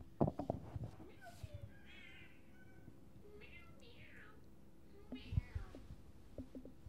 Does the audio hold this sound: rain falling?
no